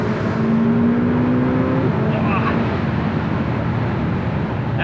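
A Ferrari F8 Spider with its roof open revs hard while accelerating after a downshift to second gear, a loud continuous engine roar heard from inside with rising tones and wind noise.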